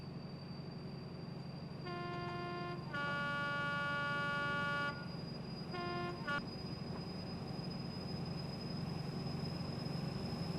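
Vigilance alarm in Train Sim Classic aboard a Virgin HST, a harmonic electronic buzz sounding in short bursts then a longer two-second tone, followed by brief repeated pips over a steady cab hum and engine drone.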